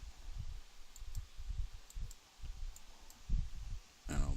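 Computer mouse buttons clicking during image editing, a series of soft, close clicks spaced irregularly over quiet room noise.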